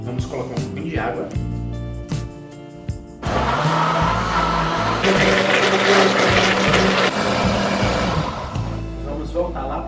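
A kitchen blender whirs loudly and steadily as it purées onion, garlic, bay leaf and water, starting after a few seconds of quieter sounds and running continuously to near the end.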